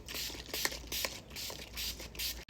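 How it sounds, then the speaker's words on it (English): Urban Decay All-Nighter setting spray is misted onto a face in several quick, close hissing bursts, each separated by short pauses, fairly quiet with no talk. "to lock it all in, the tried and true Urban Decay All-Nighter Setting Spray."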